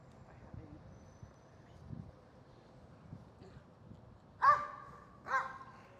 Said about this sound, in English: get him to bark at you and then throw it.